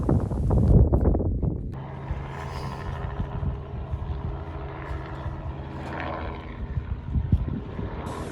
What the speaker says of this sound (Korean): 소리를 내면서 하늘을 날아가는 것이 무엇인가 봤더니 헬기 투어를 하는 모양입니다.